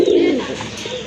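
Madrasi Golla pigeon cooing in a loft, a single close, full low coo that swells and then trails off into softer murmuring.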